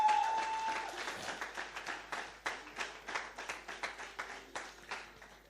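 A church congregation at a service applauds in a dense wash of clapping that settles into a rhythmic, steady clap toward the end, with a faint voice underneath at the start.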